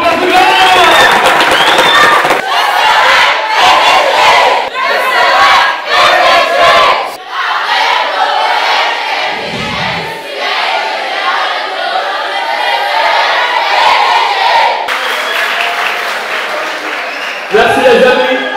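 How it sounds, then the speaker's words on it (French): A studio audience at a Cameroonian television variety show applauds and cheers loudly for the group Afriglove, with sustained clapping, whoops and shouting crowd voices filling the room, dipping briefly before swelling again. "Est-ce qu'on peut applaudir très fort pour le groupe Afriglove?"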